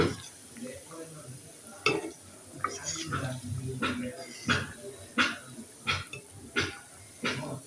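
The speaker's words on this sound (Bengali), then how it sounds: "এগুলো আস্তে আস্তে উল্টিয়ে চোরার জালটা লো মিডিয়ামে রেখেছি আস্তে আস্তে হোক আমি এগুলোকে উল্টিয়ে দিচ্ছি" Date (khejuri) pitha cakes fry in a pan on low-medium heat and are turned over: a steady soft sizzle runs under a series of sharp knocks and scrapes from the utensil, close by.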